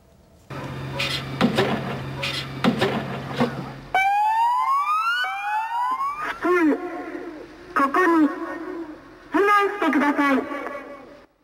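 An electronic tsunami warning siren in Japan rises and wails loudly, preceded by a steady low hum with clicks, then pulsing, chirping siren tones repeat in bursts.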